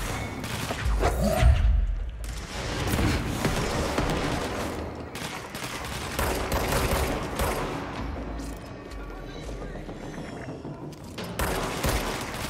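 Dense, rolling bursts of gunfire from the action video game Control, with booming impacts and whooshes layered over a continuous wash of combat noise for the full length, loud and close.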